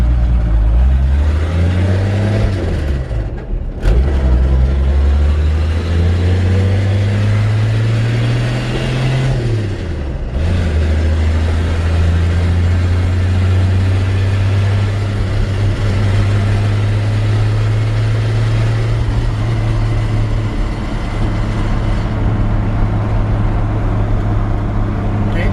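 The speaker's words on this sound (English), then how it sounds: "And we're going to take this thing for a quick drive." A 1951 Chevrolet 3100 pickup truck on a drive, its engine droning loudly and close, rising through the gears with revs climbing then dropping at shifts before settling into a steady cruising hum; no talk.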